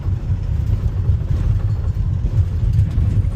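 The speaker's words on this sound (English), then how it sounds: "The motor seems to run good, considering." A Ford Savana van's engine running close by, a steady low rumbling idle that holds even throughout with no talking over it.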